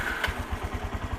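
A used big motorcycle engine turns over and fires, giving a short burst of rapid, evenly pulsing low thumps close by.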